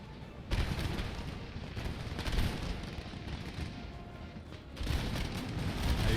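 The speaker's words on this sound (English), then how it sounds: "And small arms opens fire" Dense small-arms volley fire from massed musket ranks in Empire: Total War, a sustained crackling fusillade of overlapping shots that swells and dips in waves with a few louder bursts, with no voices.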